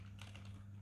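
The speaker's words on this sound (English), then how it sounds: "I'm going to type something random." Faint typing on a computer keyboard while testing it during a Zorin OS Linux setup, soft scattered key clicks over a steady low hum.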